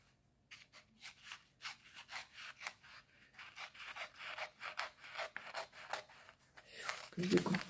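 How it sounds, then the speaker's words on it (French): Paper being cut out for a ribboned Christmas album, a series of close rhythmic scissor snips and rustles repeating for several seconds, ending with louder handling noise. "Donc, elle, je vais la découper."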